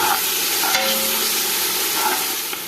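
Ground ginger, garlic and mint paste fries with softened onions for a biriyani, a loud continuous sizzle filling the whole stretch with faint stirring movement beneath.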